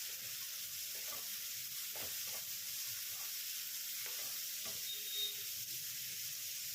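Vermicelli with carrot, turmeric powder and salt is stirred in a pan: a faint, constant hiss of frying broken by soft, irregular scraping taps from the spoon.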